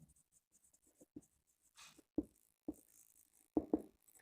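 Marker or chalk writing on a board during a commerce lesson, quiet scratchy strokes in short irregular bursts with pauses between them, heard alone without speech.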